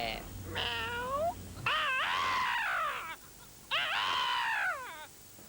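Three drawn-out, wavering meows, each loud and close, separated by short pauses over faint background hiss.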